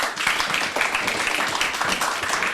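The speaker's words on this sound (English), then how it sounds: "A round of applause for Dave Holland" A convention audience claps at the end of a Q&A panel with actors Dave Holland, Mike Edmunds and Laury Goode, making a dense, steady wash of applause. The crowd sound fills the room for a few seconds without a break.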